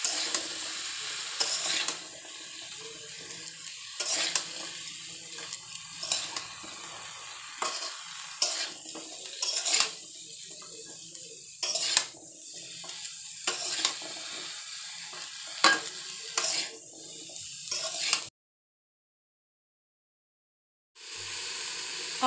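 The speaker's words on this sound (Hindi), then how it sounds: "सारे सब्जी को हम हल्के से फ्राई करेंगे।" Mixed vegetables stirred and lightly fried in a pan for a restaurant-style Indian mix veg sabji, a steady sizzle broken by repeated scraping strokes of a spoon, then a short silence and a return of the frying.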